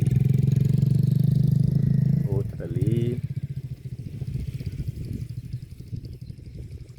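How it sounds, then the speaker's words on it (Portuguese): Motorcycles ride along a road by a beach, their engines droning loudly up close for about two seconds before fading, after which someone speaks over the lighter traffic noise. "alguns andando de moto"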